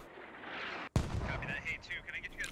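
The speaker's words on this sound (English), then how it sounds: "mortars having a significant effect here" Mortar fire lands in the military shooter Squad with one sudden heavy boom that cuts through background noise, followed by a rumbling tail. Voices and radio chatter continue over it.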